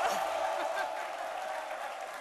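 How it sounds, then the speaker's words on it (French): A studio audience applauds on an Ivorian TV talk show set, giving a steady, even wash of clapping with faint voices mixed in, fading slightly toward the end. "vous avez raison d'applaudir de la sorte"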